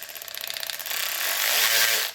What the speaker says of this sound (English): it has about 350 of RPMs, free speed. All right, variable speed trigger.